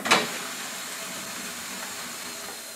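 Compressed air hisses steadily into a flat tire that has been resealed on its rim, filling it toward 40 psi; a brief louder burst comes at the start, then an even, close hiss holds alone to the end.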